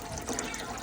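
Brown-tinted water running steadily from a household tap, a continuous soft hiss and gurgle heard close and alone, with no voices.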